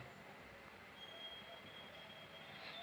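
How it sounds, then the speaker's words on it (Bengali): A train approaches in a video game, heard as a steady, low rail rumble with a faint high whine, continuous and moderately distant, with no talk over it. "ট্রেন আসতেছে, দেখেন আপনারা, ট্রেন আসতেছে"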